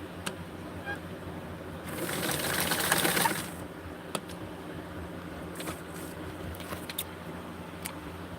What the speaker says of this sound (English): Now we're going to sew the back.